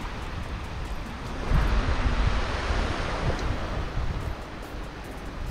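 Surf washes onto Pasir Kencana beach in Pekalongan, a small beach of brownish sand, as a steady, close wash of breaking waves mixed with gusts of wind noise on the microphone, swelling slightly partway through.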